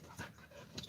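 A pet dog pants close by in quick, breathy puffs, soft and steady, with no talking.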